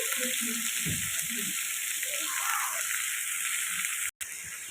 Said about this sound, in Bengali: আলু বেগুনটা আর উচ্ছেটা একসাথেই ভাজা ভাজা হচ্ছে নুন হলুদ দিয়ে